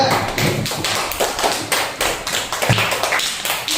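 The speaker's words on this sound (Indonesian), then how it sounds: "beri tepuk tangan untuk kelompok 2" Clapping from students in a classroom for a group that has just presented, a run of sharp irregular hand claps close by, fairly loud and continuous with no talk over it.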